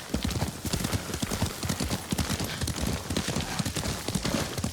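Steady rhythmic hoofbeats of a horse trotting in the video game Ghost of Tsushima, clopping continuously at moderate volume over a dense background.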